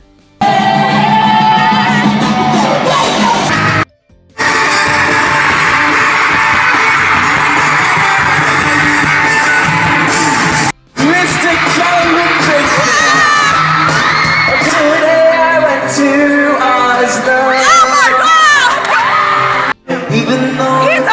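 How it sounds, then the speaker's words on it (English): Loud, dense crowd noise at a concert, with whoops, yells and screams running almost continuously, broken by a few abrupt cuts between segments. "I'm just gonna add some cool clips of, you know, me screaming and dying"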